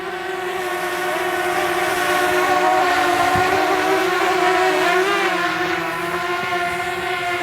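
DJI Mavic Mini drone hovering in windy conditions, a steady high-pitched whine of small propellers with wavering tonal harmonics, close and continuous throughout with wind buffeting underneath.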